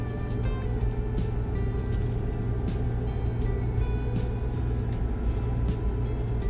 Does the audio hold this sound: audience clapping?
no